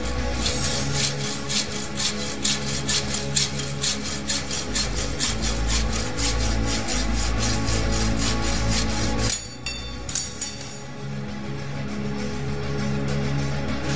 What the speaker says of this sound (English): Using 6mm brass rod and stainless steel tubing, I cut the pins